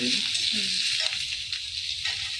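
Capsicum and green chillies frying lightly in oil in a pan, a steady close hiss with faint crackle that runs throughout without pause, with no voices over it.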